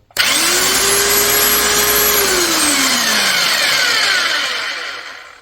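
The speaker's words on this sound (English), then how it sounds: "drill a 12 millimeter hole just to show you it drills" An Einhell TC-RH 1600 rotary hammer drilling a 12 millimetre hole whirs up to a loud, steady, high-pitched whine, holds for several seconds nearby, then winds down.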